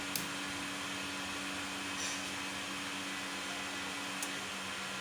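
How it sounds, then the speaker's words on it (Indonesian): Two electric blowers run as the load on an 8000 W low-frequency transformer inverter panel, giving a steady, even mechanical hum with a faint tonal drone and a few tiny clicks. "Terdengar ya untuk bebannya kedua blower."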